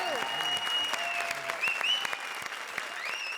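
Studio audience on a Hindi comedy show applauding a wild card entry, clapping sustained beneath a bright whistle-like tone and faint voices, fairly quiet and even.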